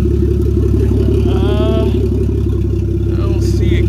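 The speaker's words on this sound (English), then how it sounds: "The new power steering, I might have spoke too soon. That's power steering." A Nissan S14's engine runs with its new power steering, giving a loud, steady low drone. A brief rising whine sits on top of it, and a voice is faintly heard.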